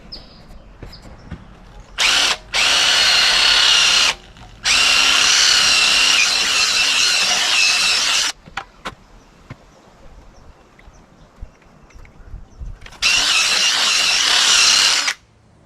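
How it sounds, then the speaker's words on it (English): A wire brush spinning in a power drill scours a metal part on a 2019 Polaris Sportsman ATV's ball joint area, coming in four loud, harsh bursts of steady whirring and scraping separated by quiet pauses. "I'm gonna put a wire brush in a drill, try to clean this out"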